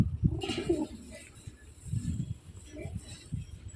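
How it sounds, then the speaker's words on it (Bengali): A female pigeon among a collection kept for sale coos in low, soft murmurs, close by, mixed with other birds and someone talking quietly. "দেখুন এই যে মাদি পায়রা"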